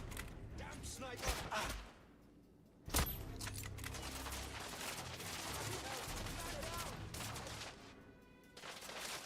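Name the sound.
sniper gunfire, likely from a video game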